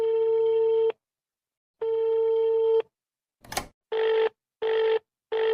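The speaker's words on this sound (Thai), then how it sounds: "สิ่งนี้เรียกว่าตู้โทรศัพท์ เพียงแค่คุณพกเหรียญไ ปหยอดตู้คุณก็สามารถโทรไปได้ทุกที่" A coin-operated public payphone gives two long steady tones, then a short click and three shorter evenly spaced tones, clear and close with no talk.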